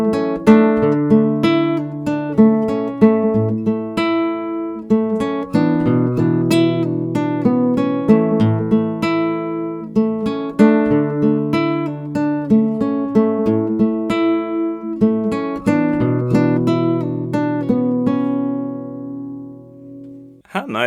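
Fingerpicked acoustic guitar plays the main refrain of a song in Zimbabwean style, a steady stream of plucked notes over a repeating bass pattern, close and clear with no talking.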